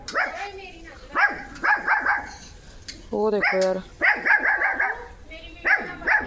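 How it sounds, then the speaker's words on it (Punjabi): A dog barks in short bursts of yips, close by, while someone talks over it and a brief whine rises in between. "ਉਹ ਸਾਹਮਣੇ ਕੁੱਤੇ ਨੂੰ ਭੌਂਕ ਰਿਹਾ"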